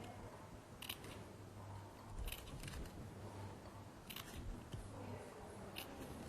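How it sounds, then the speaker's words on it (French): Scissors snipping the corners of paper-covered cardboard, several quiet, crisp cuts spaced a second or so apart over a low background hum. "Je vais couper mes angles"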